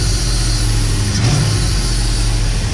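A Dodge Dakota R/T engine fitted with a Mopar Performance exhaust runs at a steady idle, a loud, deep, continuous rumble close to the microphone.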